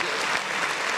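A crowd gives a round of applause, a dense, steady burst of clapping filling the whole moment at close, loud level.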